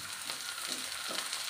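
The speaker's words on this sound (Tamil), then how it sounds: "முருங்கைப்பூவும் கொஞ்சம் வதங்கணும்." Drumstick flowers and onions frying in oil, a steady close sizzle with a few soft stirring scrapes, no talking.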